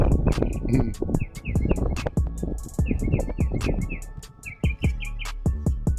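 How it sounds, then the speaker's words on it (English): Several birds sing outdoors in the sun, with repeated bright chirps and short whistled phrases coming in quick series over a nearby voice that talks throughout. "These birds singing"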